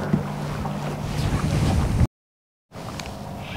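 Wind gusting over a fishing boat near a rocky bar on a northern Wisconsin lake in early fall, a steady close buffeting rush against the microphone, cut by a short silent break before resuming.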